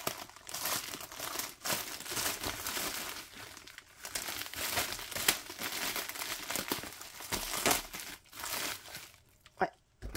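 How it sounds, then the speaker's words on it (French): Close, continuous crinkling and rustling of bubble wrap packaging being unwrapped, in bursts with short pauses. "Donc emballé dans du papier bulle."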